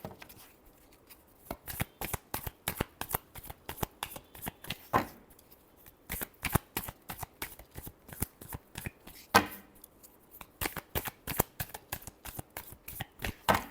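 Tarot cards are shuffled close up in a long run of crisp, rhythmic riffling snaps, one burst after another at a steady pace, soft and alone with no talk.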